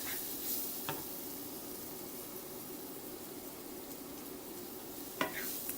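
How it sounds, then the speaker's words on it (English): Ingredients frying with onions for a Moroccan tagine, a steady close hiss of sizzling oil running throughout, with a couple of brief utensil clicks near the start and end. "you fry all your ingredients with the onions"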